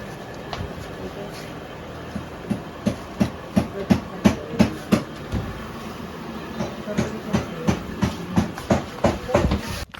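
Rhythmic clickety-clack of a passenger train's wheels over rail joints heard from inside a carriage, with repeated evenly spaced clacks over a steady rumble of the moving train.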